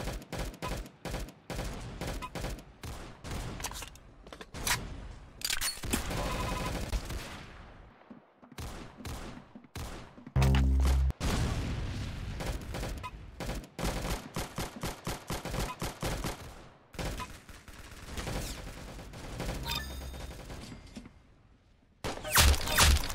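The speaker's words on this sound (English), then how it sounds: "Very good shooting." Gunfire in the Roblox game Arsenal comes as rapid bursts and volleys of sharp shots, packed close together with brief gaps in between. The loudness shifts from burst to burst.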